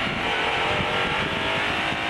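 Racing engines roar steadily as a Ferrari GT car and a V8 race car accelerate together around the Assen circuit, a dense, sustained, loud drone with no break.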